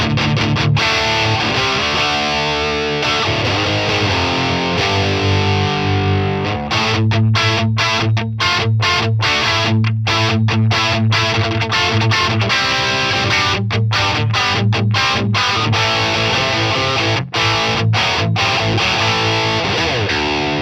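Electric guitar played through a Jeff Loomis Devil's Triad pedal in a vintage tone, loud, sustained, distorted chords with rhythmic choppy strums, no talking.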